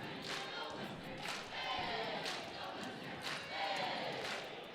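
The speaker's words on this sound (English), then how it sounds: "Cheerleaders are cheering. Band is banding. Fans are fanning." Crowd at a college volleyball match between Western Washington and Alaska Anchorage, with cheerleaders and a band cheering, a steady roar of voices with rhythmic shouted bursts about once per second, moderately distant and continuous.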